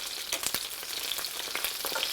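Italian peppers frying in a pan give a steady, close hiss and crackle with scattered pops throughout, no voices over it.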